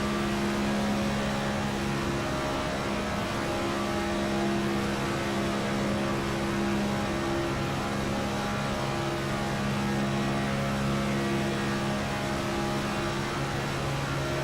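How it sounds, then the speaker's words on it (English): Race car engine in a NASCAR Next Gen Cup Series video game at Talladega, held at a steady drone with a constant throttle, loud and continuous for the whole stretch, with no talk. "We'll listen to him work the throttle."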